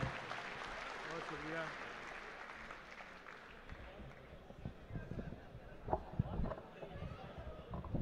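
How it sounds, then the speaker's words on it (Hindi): Applause at a gathering, heard faint and somewhat distant. Scattered clapping mixes with crowd murmur and voices, then thins into irregular claps toward the end. "तालियां बजाइए।"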